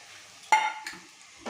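A quick scrape and stir of fried spices in a pan of amla pickle with a short burst of sizzling, followed by another lighter stir a moment later.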